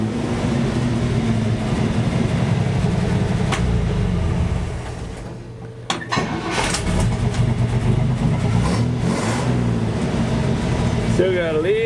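A 1963 GMC truck engine with the tailpipe gone and only the muffler fitted, its carburetor still being tuned and new plugs installed, runs at a steady idle with a low rumble throughout, someone talking over it.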